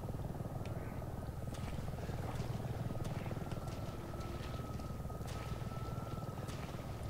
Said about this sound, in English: Oh my god, is that a helicopter?